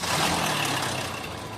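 Engine of a Toyota Revo pickup, one with a stiffening brake pedal, idling in a workshop: a steady, dense mechanical rumble that holds evenly and tapers slightly toward the end.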